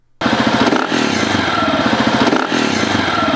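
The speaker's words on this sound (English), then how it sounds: "quickly blip the throttle to about half throttle" KTM 690 single-cylinder motorcycle engine fitted with a Rekluse EXP auto-clutch, throttle blipped to about half. The engine starts abruptly and runs loud and close with a throbbing, uneven pulse through a couple of rises, and no voice is heard.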